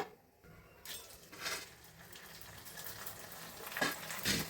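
Avalakki sandige, crisps made from flattened rice, drop into hot oil and fry with a soft, steady sizzle. A few sharp clinks of utensils come through nearby, and there is no talking.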